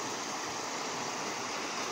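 A waterfall in Goa, water pouring and rushing in a continuous broadband wash, steady and moderately loud with no voices.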